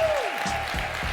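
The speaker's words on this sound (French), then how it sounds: "notre public qui a assisté à toutes ces audiences applaudisse très fort" Studio audience applauding on a French comedy courtroom show, a steady broadband wash of clapping with a sustained tone and low thumps underneath, held at even loudness throughout.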